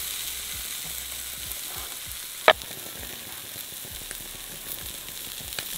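Spicy shrimp sizzle steadily on a grill, a soft continuous frying hiss close by with one sharp pop partway through and no talking.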